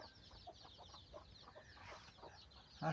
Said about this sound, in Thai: นี่หลักการเลี้ยงไก่ขังไว้ใน ในโรงด้วยครับขังไว้ย่าให้มันออกไปข้างนอก